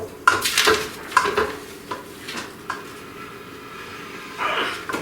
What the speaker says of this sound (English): take this spoon and just mix it a little bit